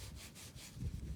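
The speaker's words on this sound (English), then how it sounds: "Let's rub it off and see what I got." Dirt being rubbed off a freshly dug old coin, a soft, close scuffing and rubbing that grows slightly louder toward the end.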